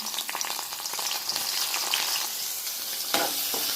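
Onion and cumin seeds sizzle steadily in hot oil in a pan, a dense close hiss with a few small pops and a brief flare near the end, no voices.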